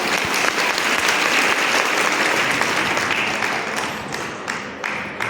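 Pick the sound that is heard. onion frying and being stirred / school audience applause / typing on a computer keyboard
school audience applause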